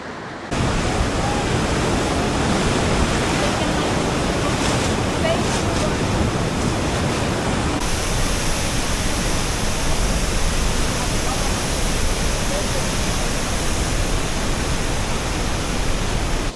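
The thundering roar of Iguazu Falls on the Brazil–Argentina border, a loud constant wash of falling water and spray with wind buffeting the microphone, continuous throughout.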